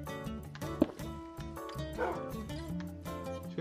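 Minecraft dog barking on Wii U, a few short yips and barks over layered game music and sound effects, with no talking.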